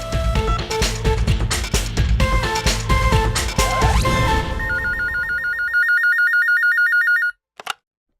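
A telephone rings loudly as a call is placed to a police station, opening over a busy cluster of jangling tones, then settling into a repeating electronic ring pattern that stops abruptly with a click.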